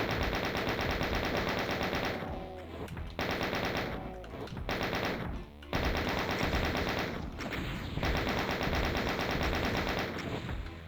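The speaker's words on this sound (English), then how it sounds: "just strafe like crazy and shoot at him a lot" Rapid automatic gunfire from the 1993 game DOOM while shooting at an enemy, loud sustained bursts with brief pauses, continuous for most of the stretch.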